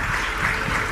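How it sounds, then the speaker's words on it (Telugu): A church congregation claps together in praise of God, a steady, dense wash of many hands filling the room for the whole moment, with no voices standing out. "మరి ఒకసారి చప్పట్లు కొట్టి దేవుని స్తుతి."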